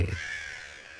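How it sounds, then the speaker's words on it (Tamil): A crow caws once, a loud, harsh call heard up close and on its own, tapering off quickly in a quiet morning setting. "தினமும் காலையில் கா கா என்ற சத்தம் தானே நம்மை எழுப்பி விடுகிறது."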